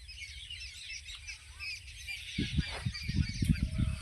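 A peacock calls outdoors, giving a run of loud honking cries in the second half over a faint background hiss.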